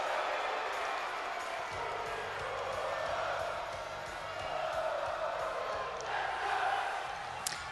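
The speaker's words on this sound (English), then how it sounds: "I'm going to let the crowd take this one." An arena crowd in the WWE 2K22 wrestling video game roars and cheers continuously at a Bash at the Beach event, a broad, steady wall of noise with swells and a few sharp accents.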